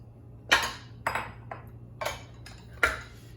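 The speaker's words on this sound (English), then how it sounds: "Whisk, whisk, whisk." Strawberry cupcake batter being whisked in a bowl, heard as five or six sharp clinking strikes of the whisk against the bowl, spaced irregularly about half a second apart, close and clear over a faint background hum.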